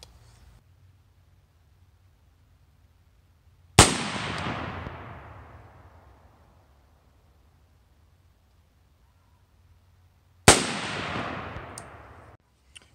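Two loud, sharp rifle shots fired at a 100-yard range with a Holosun red dot sight, each crack followed by a long decaying echo, separated by several seconds of quiet.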